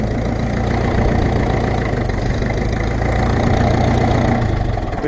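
A Ferguson TEF20 tractor engine idles close by, a loud, steady low rumble with an even chugging throb that holds unchanged throughout.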